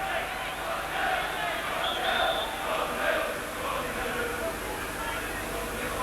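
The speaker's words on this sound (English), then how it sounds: "The crowd chant 1-0" A large football crowd at a Leeds United match against Swindon Town keeps up a distant, steady chant that rises and falls in waves across the stadium and continues throughout.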